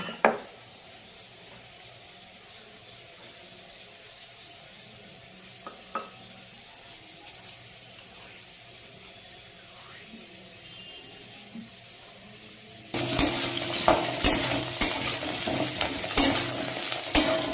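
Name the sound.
potatoes frying and being stirred in a pan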